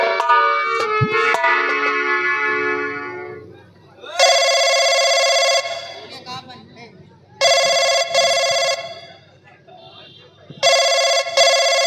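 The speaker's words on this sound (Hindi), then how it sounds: "महाराज, राजकुमारी नेहा जी का फोन है।" Telephone ringing during a Bhatnosa nautanki folk theatre performance, with a bright electronic ring tone repeating in three loud bursts. Sustained musical tones and a voice come before the ringing.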